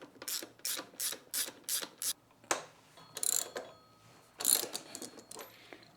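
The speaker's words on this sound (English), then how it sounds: "broke the axle nut loose" A ratchet works loose the axle nut on a Honda Dax 125 motorcycle: a run of six quick, evenly spaced clicking bursts, then a few slower, irregular ratchet strokes, close and with no talk.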